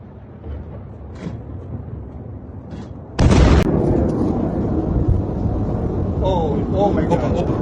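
Ballistic missile strikes explode over Tel Aviv at night: muffled distant booms, then a sudden loud blast that gives way to a sustained roar and rumble, with excited voices talking throughout.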